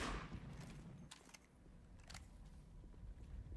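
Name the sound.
gunfire in video game Enemy Front multiplayer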